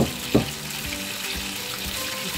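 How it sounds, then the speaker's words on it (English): Akara frying in hot oil, a steady sizzling and crackling hiss with a brief clink or stir near the start. "when you are frying your akara,"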